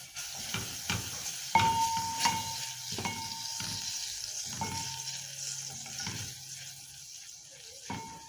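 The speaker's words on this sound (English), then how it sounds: "We are going to add a tablespoon of butter." A tablespoon of butter sizzles and fries in a pan on the stove, a steady quiet hiss broken by several soft clinks and stirring knocks, with no voices.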